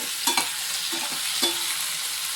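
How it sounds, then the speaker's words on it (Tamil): Tomatoes sautéing in a pan for a Tamil garlic tamarind curry, a low steady sizzle with a few light stirring clinks and scrapes, close and quiet with no talk. "இது கொஞ்சம் வதங்கட்டும் தக்காளி ரொம்ப ஒன்றும் வதங்கி வர வேண்டாம்"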